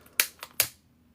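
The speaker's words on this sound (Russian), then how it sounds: "Так, берем зажигалку." Three quick, sharp clicks in a row close by, like a lighter being flicked, then quiet.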